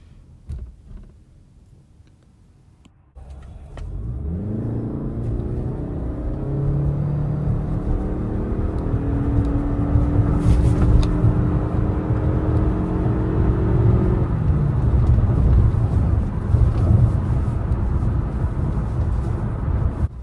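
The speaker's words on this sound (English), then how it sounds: "we are going to hit the accelerator and we're going to have an acceleration test." A 2024 Toyota Crown Limited with the standard engine pulls away hard from quiet cabin idle in an acceleration run, its engine and road noise swelling into a steady loud drone with rising tones that level off and hold.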